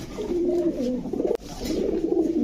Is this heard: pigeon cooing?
yes